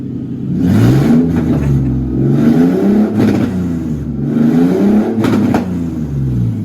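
A Toyota 3GR engine revved using a throttle pedal held by hand, rising and falling through two long swells of revving, loud and close, with no talking.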